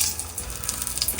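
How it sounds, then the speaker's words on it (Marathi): Whole spices, bay leaf, cinnamon, cloves, pepper and star anise, sizzling in hot oil in a close, soft, steady crackle with small pops and no speech. "आता आपण हे खडे मसाले घालून ठेवूयात, ज्याच्यात तमालपत्र, थोडीशी दालचिनी, लवंग, मिरी आणि हे चक्री फूल घेतलं."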